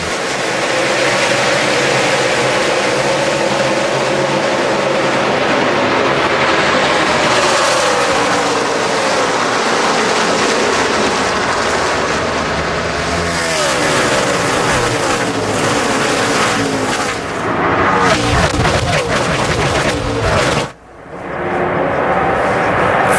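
NASCAR Cup race cars roaring off at the start of the Pure Michigan 400 on the 2-mile Michigan oval, a loud, continuous engine drone that swells as the pack passes, with a commentator talking over it.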